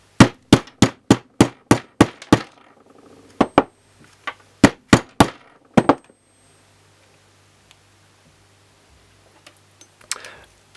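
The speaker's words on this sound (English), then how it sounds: "Let's use a hammer this time." A hammer strikes to crimp a Eurorack power cable connector on a table. It starts with seven sharp, evenly spaced blows, then comes a short pause and another burst of four knocks, followed by a quiet stretch with a few faint taps.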